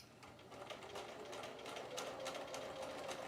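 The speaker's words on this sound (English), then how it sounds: "it's fiddly because you're stitching on a curved edge" A sewing machine stitches fabric slowly along a curved edge, its steady fast needle rattle running continuously and fairly quiet, without talk.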